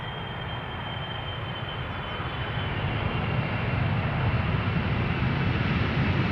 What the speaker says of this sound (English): the Qatar Airways 777, arriving from Doha, flight 275